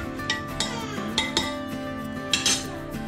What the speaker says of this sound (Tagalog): Imimix natin ito hanggang ma-dissolve po completely yung ating cornstarch